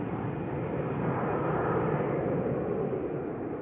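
An EasyJet airliner departing Manchester Airport: a steady, loud broadband jet engine roar that holds at a constant level with no speech over it.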